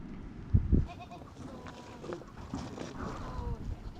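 Goats bleat a couple of times close by, with rustling and low background noise around them in a pen.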